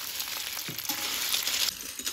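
Snails tossed with chopped onion frying in a pan, a close hissing sizzle with a few stirring clatters, swelling briefly before settling, with no talk over it.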